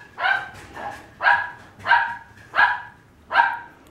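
A dog barks five times in a steady, evenly spaced rhythm, sharp and close, with quiet gaps between barks.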